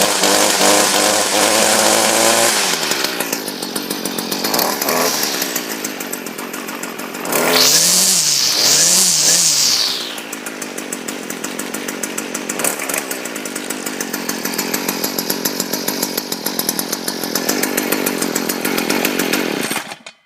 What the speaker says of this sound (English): Cold start of the Stihl FS56 RCE.